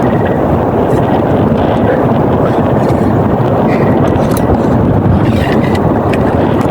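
Loud, steady wind roars and buffets the microphone without a break, with a rushing outdoor rumble and no voices.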